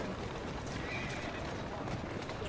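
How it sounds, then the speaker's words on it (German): An old mare in Assassin's Creed Syndicate, with hoof clip-clops and a whinny amid dense street ambience, fairly faint and steady throughout. "Komm schon, alte Stute."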